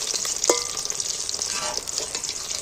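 Thinly cut fish pieces frying in oil, a close, busy crackling sizzle with a sharp pop and light stirring clinks.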